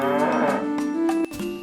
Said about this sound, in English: A cow says moo moo.